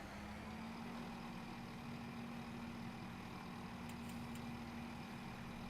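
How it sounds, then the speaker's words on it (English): A train engine in Train Sim Classic starts up and idles steadily throughout, a low continuous drone with a rising tone settling in at the start and faint clicks later. "Okay, let's start the engine."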